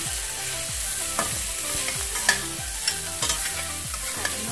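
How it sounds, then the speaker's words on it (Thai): Pork belly and Indian trumpet tree pods stir-fried in a pan, a steady sizzle broken by repeated scraping strokes of a spatula, close and continuous with no talking. "ผัดมาก่อนนะคะแล้วก็เราจะปรุงรสค่ะ"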